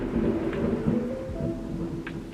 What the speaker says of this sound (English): There is the thunder that I was just telling you about.